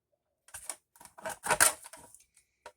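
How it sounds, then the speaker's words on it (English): Paper is cut off during envelope and tag crafting, a quick series of crisp close scissor snips and rustles spread over about two seconds, with a last single snip after a pause, in a quiet room. "So we're going to cut this off."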